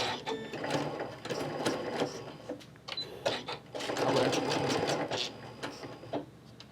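A sewing machine stitches fabric back and forth in short, uneven bursts with clicking pauses between runs. It is close and moderately loud, with no speech.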